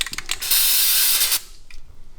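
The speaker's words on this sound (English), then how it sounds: "The farther away you spray it from, the better it comes out." A single sustained hiss of an aerosol can spraying for about a second, preceded by a few short rattling taps.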